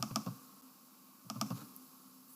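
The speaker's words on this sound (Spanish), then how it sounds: "voy a darle doble clic a las barras" Two quick mouse double-clicks, each a pair of sharp close ticks, separated by about a second of quiet while bars in a bar chart are selected in statistics software.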